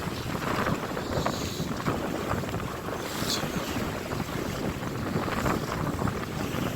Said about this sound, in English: It's quite a cold, icy wind this morning